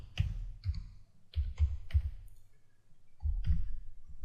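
Someone types into the Windows 8 search box on a computer keyboard, giving a handful of close, separate key clicks in an uneven rhythm with short pauses between them, with no talk.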